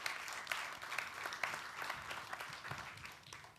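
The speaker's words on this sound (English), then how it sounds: "Let's give him a round of applause." Audience applause at a plenary session of an international conference on global crises, steady dense clapping from a crowd throughout, fairly distant and fading slightly toward the end.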